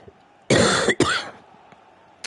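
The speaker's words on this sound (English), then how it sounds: "Again, sorry for the cough." Two sharp, loud coughs in quick succession from a single person close to the microphone, followed by quiet.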